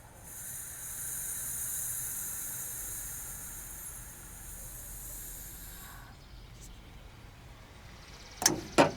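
A steady soft hiss of pressure escaping from a Suzuki Jimny JA22W radiator cap fades out, followed by a couple of brief sharp clicks near the end.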